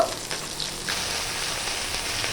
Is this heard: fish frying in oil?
yes